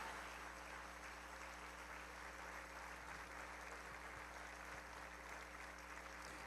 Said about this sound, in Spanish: ¿Sabes por qué ese aplauso tiene que llegar al cielo, hermano?